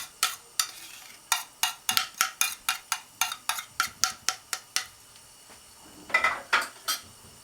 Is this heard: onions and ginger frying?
yes